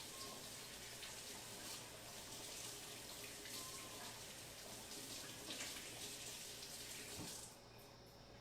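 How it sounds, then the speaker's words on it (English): Water runs steadily from a kitchen tap as hands are rinsed under it, a continuous hiss that drops off near the end. "I'm just going to rinse my hands off."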